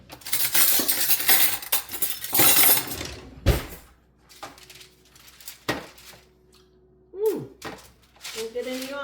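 Big spoon scraping and clanking against a pan while spreading hardening peanut brittle, with harsh scrapes and a few sharp knocks, and people talking between the strokes.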